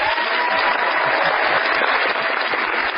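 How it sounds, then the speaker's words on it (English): Studio audience applauding a guest on the Fire Your MD Now radio show, a steady dense wash of clapping holding at even loudness throughout without pause. "Let's give Mr. Mike Randolph a great big Fire Your MD Now round of applause"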